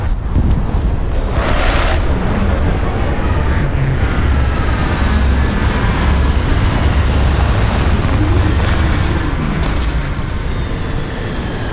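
A spaceship starting its landing cycle in Starfield, a steady, loud roaring rumble of engines and rushing air that holds continuously with faint whining tones drifting over it.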